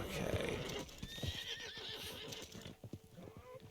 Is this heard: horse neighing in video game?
yes